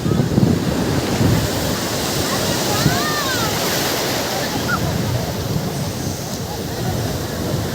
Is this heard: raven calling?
no